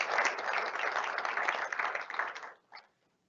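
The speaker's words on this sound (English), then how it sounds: "May I get a big round of applause for the Will County Board, Jennifer Bertino-Tarrant." Audience applause at a college's annual State of the College address, a dense burst of clapping from a seated crowd that holds steady for about two and a half seconds, then fades with a few last scattered claps.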